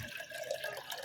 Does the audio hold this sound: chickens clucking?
no